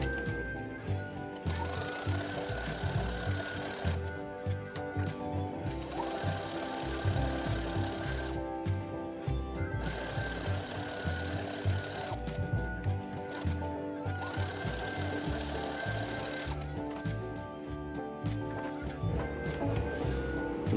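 Sewing machine chain stitching fabric pieces together for a Tusken Raider bandolier, a steady fast mechanical whir and needle clatter running in long stretches with brief pauses between them, close and moderately loud with no voice.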